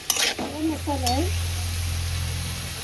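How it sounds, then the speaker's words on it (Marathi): Onion and tomato sizzle steadily in a pan for a Kerala-style fish curry cooked in Devgad, Konkan. A brief voice is heard near the start over the hiss and a low background hum. "जरा परतायचा कांदा आणि टमाटा."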